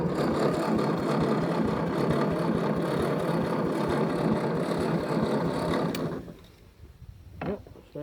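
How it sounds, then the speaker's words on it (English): The starter motor on a 1956 Ford 600 backhoe that has sat unrun for ten years cranks with a loud, dense, rapid churning for about six seconds. It cuts off abruptly, followed by faint clicks and a short thump. "starter still turns over"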